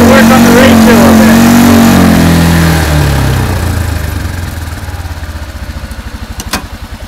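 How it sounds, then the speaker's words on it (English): A charcoal gasifier ATV engine at three-quarter throttle, starving for air, runs loud and rough up close, its steady drone fading into an uneven, sputtering pulse as it loses power. "Getting about three-quarter throttle, and then I start running out of air. You can hear it."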